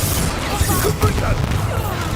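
Confringo explosion spell cast in Hogwarts Legacy, a series of booming blasts and crashes layered over continuous game music and battle noise, with a voice shouting during the clip.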